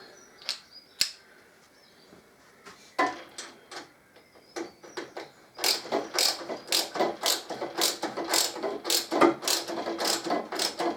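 Sparse clicks at first, then a quick run of rhythmic ratchet clicks, close and crisp, as a screw scrapes on its thread while being turned on a bent Harley-Davidson Electra Glide.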